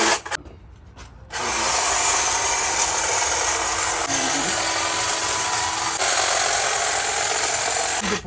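A garden trimmer cutting plants in a home garden: after a second of quieter handling, a steady, loud, buzzing motor whine with rasping cut noise runs continuously without a break.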